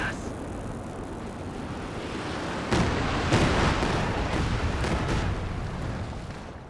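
A Panzerwerfer rocket artillery barrage in Company of Heroes 2, a loud burst of rumbling impacts breaking in partway through over steady battle noise, with several sharp blasts following.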